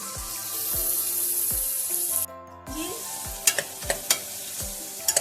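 Sautéing in a pan for beetroot biryani, a close, steady sizzle with rhythmic stirring strokes, a brief dip midway, then sharp spoon taps on the pan toward the end, no talking.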